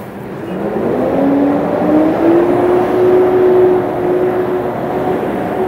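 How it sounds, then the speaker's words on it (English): A loud truck passes through busy afternoon city traffic on a Halifax street, its engine drone rising and holding steady for several seconds, close and dominant over the general road noise. "that truck does not need to be obnoxiously loud"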